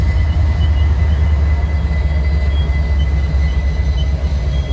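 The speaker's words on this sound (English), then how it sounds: "Didn't think it was going to stop, but you can hear the brakes being applied. Grind, grind, grind." A Pennsylvania Railroad heritage locomotive pulling the Tipton turn train rumbles heavily past in Tipton, Indiana, a loud low drone with a thin sustained high squeal from the brakes grinding as it slows.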